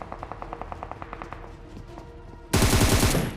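Automatic gunfire in PUBG Mobile rattles off in a rapid, even burst of shots, followed after a short pause by a louder, denser close-range burst.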